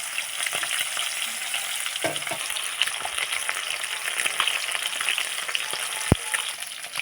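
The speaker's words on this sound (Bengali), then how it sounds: "মাছগুলো ভালো করে ভেজে নেব" Fish, likely shol, frying in a pan with oil for a mango curry produce a continuous close sizzle, with occasional utensil scrapes and one sharp knock near the end.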